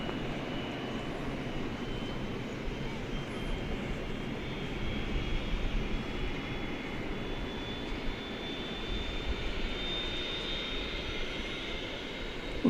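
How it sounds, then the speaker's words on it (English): A steady, loud roar of airplane engines revving up at night on a DFW Airport runway builds and holds, broadband and continuous with no voices. "Listen to this plane revving up."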